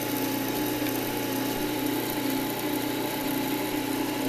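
A Delta wood lathe runs at its maximum speed of about 2000 RPM, making a steady, close motor hum with an even mechanical whir and no change throughout.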